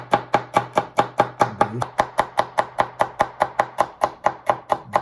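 A kitchen knife chopping celery stalks on a cutting board: fast, even, sharp taps, about four per second, close and crisp, with a single brief spoken word early on.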